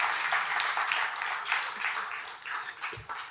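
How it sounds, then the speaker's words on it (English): Applause from an audience at the Bizlitfest award ceremony, a brief spread of many hands clapping at moderate distance, fading toward the end. "Clap, please."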